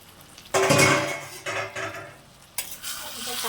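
A metal lid is lifted off a pot of mixed vegetables cooked with prawns, then a spoon scrapes and stirs the sizzling contents in several close, clattering strokes.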